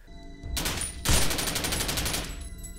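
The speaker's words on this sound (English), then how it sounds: "The guns don't necessarily sound great, not giving them enough oomph." Gunfire from a video game's weapons, a dense rapid burst with a sharp onset about a second in, then sustained crackling shots at close range with no talk over it.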